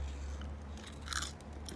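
Someone bites into a crisp ciabatta-style pizza topped with sardines, peppers, fresh tomatoes, garlic and Greek olive oil, giving a short, quiet crunch against soft background hiss.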